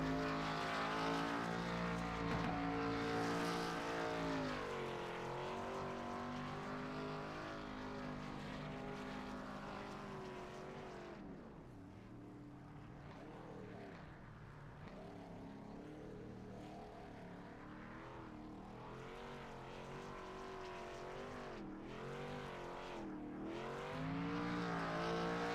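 Race car engine roaring steadily through a celebratory burnout in a Gen 4 SS Series racing game, loud sustained drone with rising and falling revs and tire squeal, no talk.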